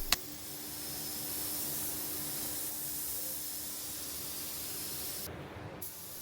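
A spray gun lays down a second wet coat of high build primer on a bare-metal VW Caddy bonnet, giving a steady, continuous close-up hiss that runs the whole length without pause.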